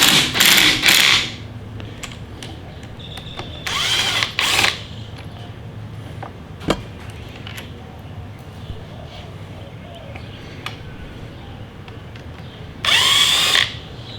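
Short bursts of a power driver whir as it backs out T25 screws from a motorcycle front brake master cylinder on a 2022 Street Glide Special, three separated runs with quiet gaps and faint clicks between them.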